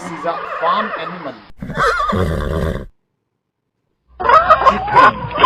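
A horse neighs loudly and close in two whinnying bursts, a shrill wavering call followed by a lower rough one, then a pause before another whinny sounds.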